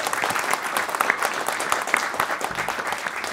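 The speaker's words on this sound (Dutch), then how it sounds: "Geef ze allebei een enorm applaus." Studio audience at a political talk show giving the two guests a lively round of applause, dense continuous clapping filling the short stretch at moderate level.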